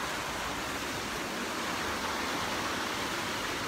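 Steady broadband rush of flowing creek water, close and continuous throughout with no voices, an even hiss that stays level from start to finish.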